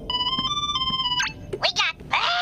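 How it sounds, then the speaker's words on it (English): A chirpy electronic ringtone from the gummy phone in Kingdom Hearts III repeats in quick pulses, then gives way to cartoonish character voice exclamations, all moderately loud over game background sound. "Sora, somebody's calling us on the gummy phone"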